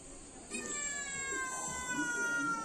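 A cat meows loudly and close by, a drawn-out tonal cry with a slight caterwauling edge that carries on over faint background noise, with no one talking.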